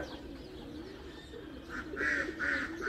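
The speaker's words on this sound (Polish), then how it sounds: "Panowie, przeliczyłem gołębie." Racing pigeons coo near the loft during training flights, soft repeated throaty calls that grow louder toward the end, with faint background noise and no talking.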